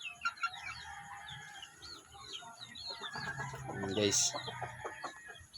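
Shamo gamefowl chickens cluck and squawk nearby with a brief crowing call, while someone talks over them close to the mic.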